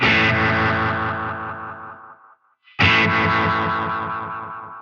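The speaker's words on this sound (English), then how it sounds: "we've got that nice distorted slapback sound there" A distorted electric guitar through a NUX Atlantic pedal's slapback delay rings out in two strummed bursts, each tail smeared by quick gritty echoes that fade, with a brief silence between them.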